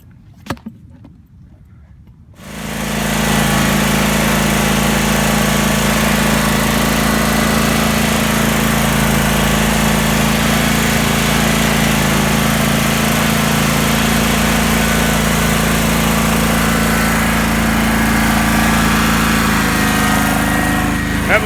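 A walk-behind lawn mower engine starts after a few soft clicks and then runs steadily at a loud, close, constant drone for the rest of the stretch, with no talk.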